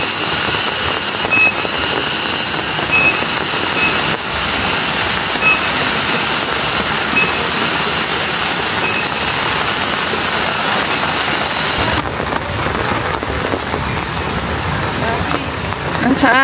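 Steady rain falls on a surface at an elephant park in Bali, a dense continuous hiss with faint voices murmuring underneath.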